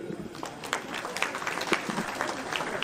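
Church audience at an office inauguration in Papua clapping steadily together, a dense close round of applause lasting the whole clip.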